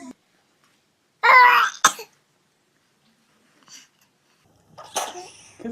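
A baby gives one loud, close sneeze with a sharp breathy burst, followed by quieter breaths and a second softer sneeze-like snort a few seconds later.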